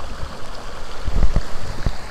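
Water splashes continuously in an outdoor town fountain at the South Carolina Festival of Flowers, a loud, close rushing churn with a few heavier splashes and low gurgles.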